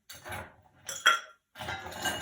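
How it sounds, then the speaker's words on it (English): Homemade ice cubes are dropped into a mixing glass for a gin cocktail, making a few bright clinks and rattles in separate bursts, close and fairly quiet, with no talk. "I'm going to put some ice, some homemade ice,"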